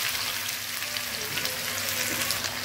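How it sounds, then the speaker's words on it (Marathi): Chopped onion sizzling in hot oil with cumin and mustard seeds for a cauliflower and pea curry, a steady dense frying hiss that runs close and unbroken throughout with no talking. "कांदा चांगला लालसर होईल तोपर्यंत परतू द्यायचा"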